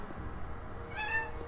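A kitten gives a single short meow near the end, over a steady background hum indoors.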